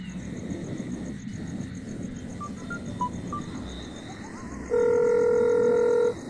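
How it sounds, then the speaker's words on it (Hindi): A telephone call is placed: a few short keypad beeps sound over a low background murmur, then a loud steady ringback tone holds for about one and a half seconds. "रुक, मैं उसे फोन करता हूँ।"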